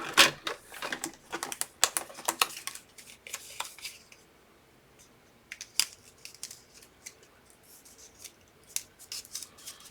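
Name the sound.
scissors cutting strips of paper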